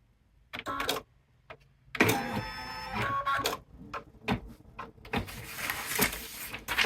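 An embroidery machine stitches a placement line, giving short mechanical whirring bursts separated by pauses, close and moderately loud, with rhythmic needle chatter between quieter gaps.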